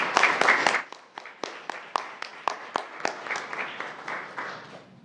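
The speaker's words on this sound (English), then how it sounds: "Please join me in giving them a round of applause." A small audience at a school board meeting applauds the school principals; a burst of scattered clapping fades into sparse, individual claps.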